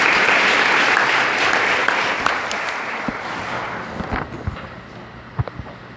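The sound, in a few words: prayer group applause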